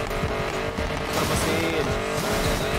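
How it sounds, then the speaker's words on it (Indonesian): Loud car engine and exhaust in Need for Speed Payback, revving and roaring continuously with tire squeal, close and full throughout. "Suara knalpot horn."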